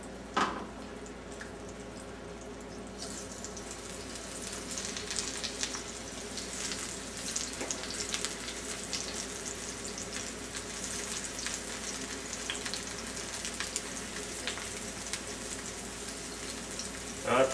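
Steady crackling sizzle of eggplant frying in hot oil in a saute pan, close and continuous, with a sharper burst of spattering early on.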